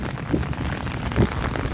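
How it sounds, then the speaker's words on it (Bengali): Steady rain patters on a surface close by, a dense hiss with a few heavier drops standing out. "বৃষ্টি থামার কোনো লক্ষণ দেখতে পাচ্ছি না।"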